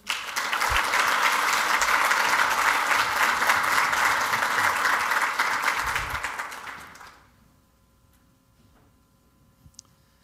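An audience bursts into sustained, dense applause for speaker John Coyne at an executive leadership event, steady clapping for about seven seconds before it fades into near silence.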